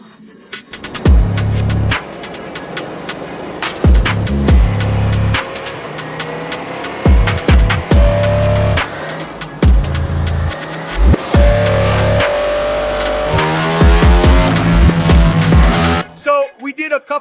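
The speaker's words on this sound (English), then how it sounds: "first step is to start the bike and run it with a couple of pulls here on the dyno" A 2025 Ducati Panigale V4 on a dyno fitted with a loud new exhaust, the engine blipped in repeated sharp revs, then held in a long rising full-throttle pull before cutting off, very loud and close.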